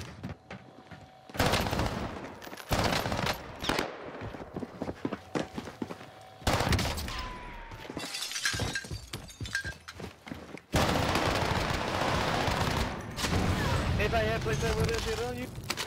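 Gunfire in the video game Warzone from a rifle with a 70-round magazine: rapid automatic bursts and scattered shots with impacts, loud and close, mixed with game effects and players talking.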